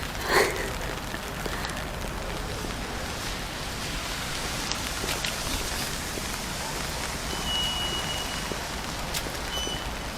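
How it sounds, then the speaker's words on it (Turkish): Steady rain patters on surfaces nearby in foggy weather, a constant wash of hiss with occasional louder drops. "Çok sisli ve yağmurlu bir havası var."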